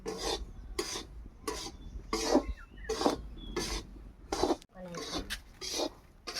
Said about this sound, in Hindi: ये सूजी भून रही है